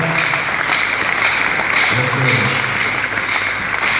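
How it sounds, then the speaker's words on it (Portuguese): A church congregation claps for the ministers present, a dense, loud, continuous wash of applause with a low hum and murmur under it. "Vamos aplaudir pelos ministros que estão neste lugar."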